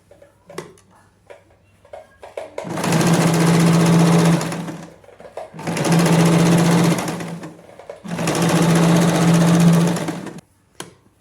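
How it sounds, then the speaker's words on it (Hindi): A sewing machine top-stitches a trouser zip in three steady, loud bursts of rapid whirring stitching, with short pauses and faint handling noises between each run. "हम इसको इस तरह से पलटेंगे और इसके ऊपर टॉप स्टिच लगाएंगे।"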